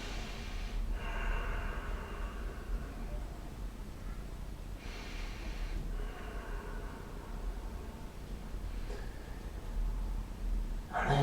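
Deep, slow breathing in a yoga child's pose during a yoga and Pilates fusion session, with three long audible breaths spaced a few seconds apart over a soft background hiss.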